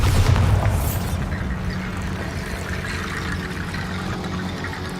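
A Bombarda spell explosion in Hogwarts Legacy: one loud booming blast up front that settles into a rumbling, debris-like roar fading slowly over several seconds.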